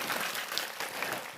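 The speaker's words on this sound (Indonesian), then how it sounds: "Tepuk tangan untuk Gondang Legi." A crowd at a religious gathering in Malang applauds for the Gondang Legi delegation, a brief continuous wash of clapping at moderate, even loudness, no speech over it.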